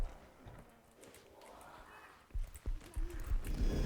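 Footsteps in the game MiSide, a series of heavy, regular thuds that grow louder as they approach over a quiet, murmuring background.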